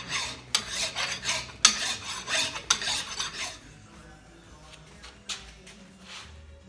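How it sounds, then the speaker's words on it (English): Jaw of a vintage Charles Parker Model 974 1/2 machinist vise being filed with a Nicholson file, rhythmic rasping strokes, about eight steady pulls close up, then quieter scattered scrapes. "Using a good Nicholson file here"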